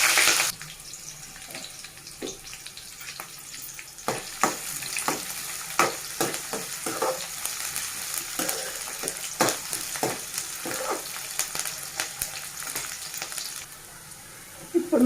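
Cumin, mustard seeds, green chillies and onion sizzle steadily in hot oil for a tomato curry, with scattered sharp pops and crackles over a continuous frying hiss, close and fairly loud, no one speaking.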